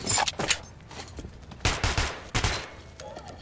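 Heavy gunfire from a powerful weapon in Metro 2033 rings out in several loud, broadband bursts, some close together, with short gaps and echoing tails between volleys.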